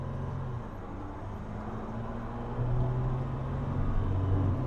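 A steady low rumble from a Jeep Wrangler Rubicon EcoDiesel engine idling close by, a constant drone with a slight rise in loudness partway through.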